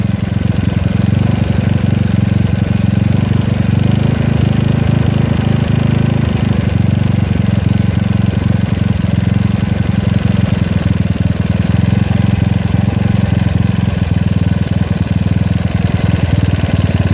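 A GY6 scooter engine fitted with an OKO PWK 30mm carburetor runs steadily and loudly, with a deep, continuous drone and no break or change across the whole stretch.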